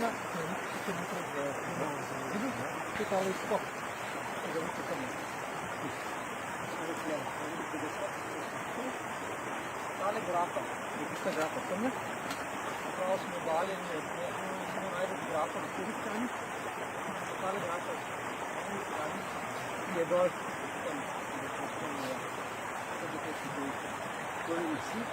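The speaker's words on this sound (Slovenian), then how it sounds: "Ob nami je potok" A mountain stream flowing beside a path near the Italy, Austria and Slovenia tripoint gives a quiet, unbroken rushing murmur throughout, steady and moderately distant.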